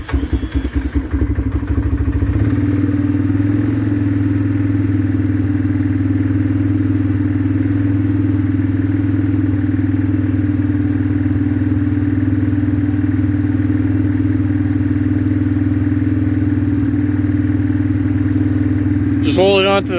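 A 2004 Yamaha Kodiak 450 ATV engine idles steadily after a cold start, a loud, continuous low thrum running close and unbroken for the whole stretch.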